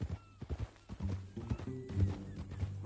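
A horse in Red Dead Redemption 2 clops its hooves on the ground in an uneven walking rhythm, then lets out a neigh, close and moderately loud with a faint voice in the background.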